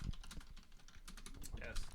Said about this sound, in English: Vigorous slamming typing. on the keyboard.